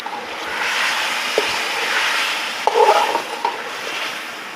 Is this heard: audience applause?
no